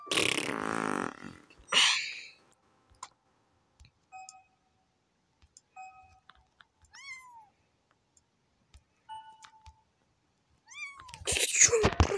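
Meows from the cat in the video game Cats are Liquid: several short, bending meows in the second half, separated by quiet stretches, light clicks and soft electronic tones, with louder noisy bursts at the start and end.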